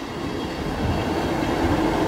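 A train arriving at Carlton Station near its level crossing rumbles steadily nearby, a low rolling mechanical drone with faint rail noise, no voices.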